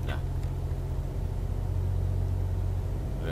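An empty Volvo truck in Euro Truck Simulator 2 drones along with a steady low engine hum, loud and constant, with faint clicks at the start and end.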